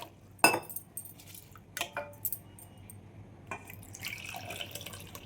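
A sharp clink, then a few brief watery splashes, and finally a short run of water pouring into a vessel of rice.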